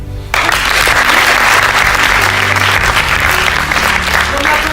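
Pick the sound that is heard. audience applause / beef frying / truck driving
audience applause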